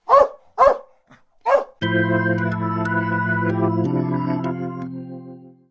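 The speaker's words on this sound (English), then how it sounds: "Training you to growl and bark at that dude was time well spent." A trained dog gives three sharp barks in close succession, loud and near, then a short pause before sustained music comes in and carries on to the end.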